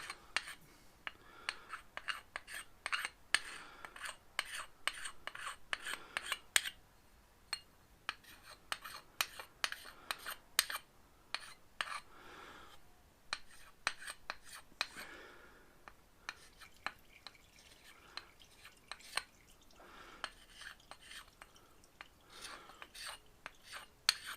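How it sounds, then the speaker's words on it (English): Carbide scraper pulled lightly over an aluminium part from a 2016 Honda CRF250L: close, quiet rasping strokes in quick irregular bursts, with short pauses and no talk. "There's a carbide scraper, bit overkill for a bit of aluminium, but I'm just going to lightly scrape it over, pulling it over, not pushing"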